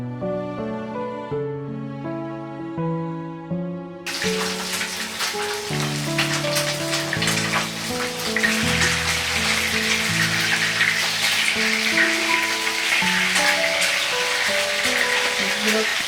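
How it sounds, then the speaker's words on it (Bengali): Pieces of katla fish frying in oil in a frying pan, a steady dense sizzle and crackle that starts abruptly and continues under background music. "এখন আমি ফ্রাই প্যানে হাফ কাপ তেল দিয়ে নিলাম মাছগুলোকে ভালোভাবে ভেজে নেওয়ার জন্য।"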